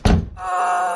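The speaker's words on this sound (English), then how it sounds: "The door's closing!" A house door swings shut with one heavy, close thunk, followed by a steady tonal hum that lingers for the rest of the second.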